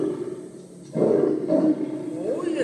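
A voice mimics a lion with a rough, drawn-out roar, close and moderately loud, rising partway through.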